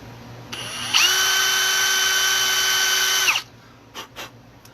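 A power drill bores a hole into a guitar headstock, spinning up with a high steady whine for a few seconds before cutting off, followed by two brief faint knocks.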